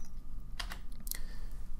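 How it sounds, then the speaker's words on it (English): A few sharp clicks come from keys pressed on a computer keyboard, close and clear, with a short burst in the middle and quiet between the presses. "Just click on that and press delete on my keyboard again."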